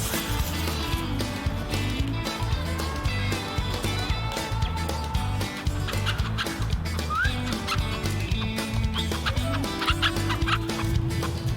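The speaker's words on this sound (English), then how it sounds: "The chickens were having a good time running around, getting fit" Chickens cluck and chatter continuously over a steady, busy background, with overlapping bird calls throughout and no clear pauses.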